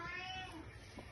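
A kitten gives a single short, thin meow, quiet and fairly close, over a faint steady background hum.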